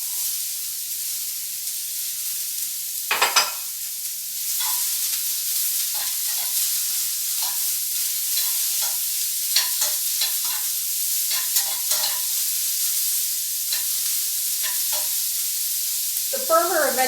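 Napa cabbage sizzles in a hot pan with a bright, steady hiss, broken by repeated scraping and clattering stirs, close and fairly loud.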